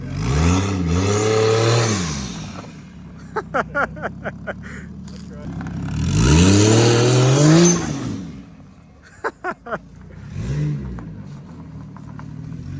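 Lexus IS300 fitted with a CT20 turbo, revving hard twice with long rising and falling swells, close and loud, with clicking and rattling between revs and people talking excitedly around it.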